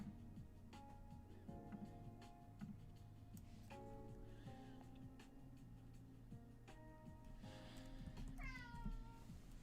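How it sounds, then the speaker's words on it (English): A pet cat meows several times in a short series of rising, whiny calls over a steady background hum and faint ticking, fairly quiet and without talk. "I'm not sure if you hear my cat."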